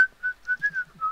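A person whistles a wavering, steady-pitched tune in short, repeated phrases, fairly close and clear, during a Minecraft adventure-map gaming session, with faint low thumps underneath.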